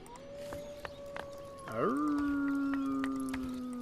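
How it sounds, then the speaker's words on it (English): Wolves howl in the real-time strategy game Ymir, with one long, rising howl that settles into a sustained tone over faint background game sounds and small clicks. "I can hear your wolves howling in my house, in my houses, in my city."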